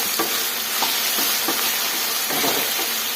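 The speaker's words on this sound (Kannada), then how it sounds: "ಬದನೆಕಾಯಿ ಫ್ರೈ ಮಾಡಿಕೊಂಡೆ" Brinjal (eggplant) frying in a pan, a steady broadband sizzle with soft stirring scrapes recurring every second or so, close and even, with no voices.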